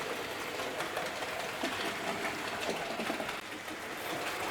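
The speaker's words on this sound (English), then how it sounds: "You can see there our locomotive just slowed a fraction." A model railway Terrier locomotive runs along the track with a continuous whirring rumble and faint rhythmic clicking, close and even, slowing slightly near the end.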